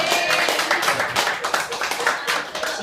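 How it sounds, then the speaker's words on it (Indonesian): An audience at a modest 25th-anniversary celebration of a credit union claps together in a steady, fairly loud stretch of applause, with some voices mixed in. "Biar meriah tepuk tangan dulu."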